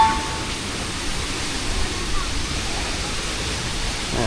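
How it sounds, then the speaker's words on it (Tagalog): Katibawasan Falls in Camiguin roars as a steady, broad wash of falling water, continuous and fairly loud with no breaks, with people talking faintly nearby. "Ayan yung falls."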